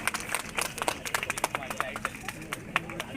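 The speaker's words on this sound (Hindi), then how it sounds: "जोरदार तालियों से स्वागत है डॉक्टर नितेश चंद्रवंशी" Scattered hand claps from a small gathering welcoming a doctor at a hospital opening on a highway, uneven and moderately close, with voices murmuring underneath.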